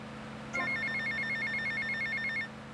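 An in-game telephone rings in GTA Vice City Definitive Edition, a repeating electronic trill starting abruptly and continuing steadily for about two seconds over a low background hum, with no talking.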